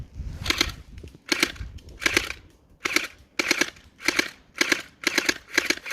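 An airsoft gun fires in quick full-auto bursts, about nine short rattling volleys in a regular rhythm, close and crisp with brief quiet gaps between them.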